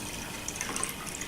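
Water pours steadily into a container, a continuous close rushing fill with small bright splashes and drips scattered through it, heard alone.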